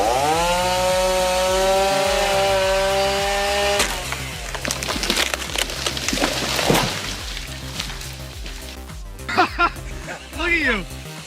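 A homemade chainsaw cuts into a tree, engine revving with a steady buzzing whine that gives way to rough, gritty cutting noise, loud and close, with a voice talking over it.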